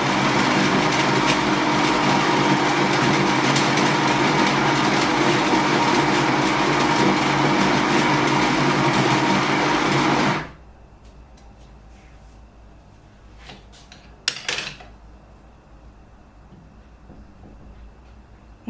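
Grinder of a La Seine X espresso machine dosing coffee on its automatic setting, a loud steady whirring grind running for about ten seconds before cutting off, followed by quiet room noise and a few light clicks.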